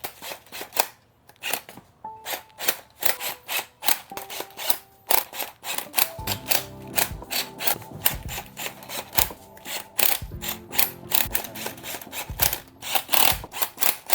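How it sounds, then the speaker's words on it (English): A small torque wrench tightening bolts on a low-compression Mazda RX-8 rotary engine during a rebuild gives a long run of sharp, rapid ratcheting clicks, near and fairly loud, with soft background tones and no speech. "I'm just gonna go light with this little torque wrench right here"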